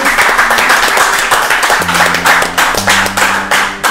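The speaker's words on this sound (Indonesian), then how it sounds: "Tepuk tangan dulu dong." Clapping from an audience during a military command's working visit to a regimental headquarters, loud and close, with sharp individual claps and a low hum underneath, fading into scattered claps toward the end.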